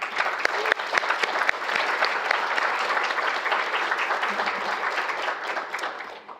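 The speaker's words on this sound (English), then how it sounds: "Let's give all of you a round of applause." A full room at an academic honors recognition reception breaks into sustained applause for the students' supporters, even and loud throughout before tapering slightly at the end.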